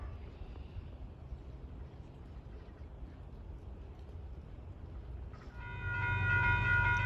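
Amtrak 49, the Lakeshore Limited passenger train running from New York to Chicago, passes along the Hudson with a steady low rumble that swells near the end as a horn sounds in sustained tones.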